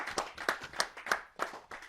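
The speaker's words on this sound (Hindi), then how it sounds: "एक बार मैं चाहूंगा दिल खोल करके तालियां बजाएं" Hand clapping from the audience at a Hindi poetry gathering (kavi sammelan), sparse and uneven, a handful of separate claps rather than a full ovation, fairly faint and heard alone.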